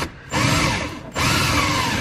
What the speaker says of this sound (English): This plastic is really easy to drill through,